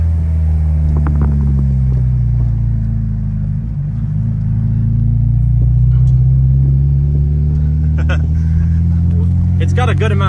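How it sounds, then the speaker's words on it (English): An Acura RSX Type S with rolled fenders and added camber on a slow test drive, its engine a steady low rumble throughout with no spoken words. "we're doing our first test drive"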